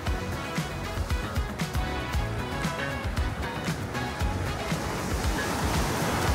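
Ocean waves wash steadily onto a beach in Barbados, with a constant rushing surf roar and wind buffeting the microphone throughout, no voices.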